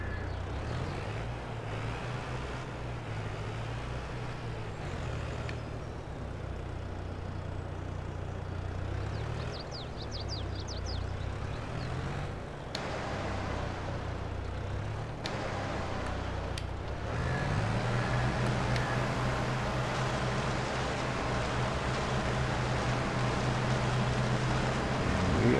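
A small tractor pulls a mulcher through a vineyard in Farming Simulator 22, its engine humming steadily and rising in pitch and loudness partway through, with no voices.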